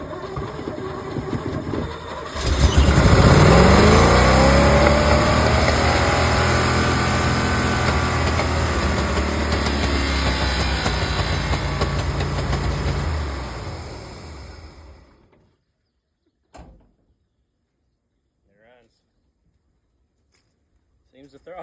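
A 1983 Chevy engine fires up and runs loudly and close with a steady roar, then cuts off and leaves near silence with a few faint knocks.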